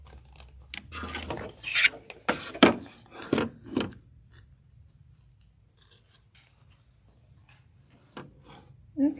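Scissors snip and trim through sewing material in a quick cluster of close, crisp cuts, followed by a quieter stretch with a faint low hum.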